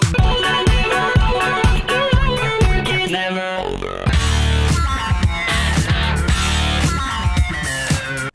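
Electronic music plays loud and dense, with a punchy repeating beat, deep bass and bright synth layers. A short breakdown leads into a fuller section, with no speech over it.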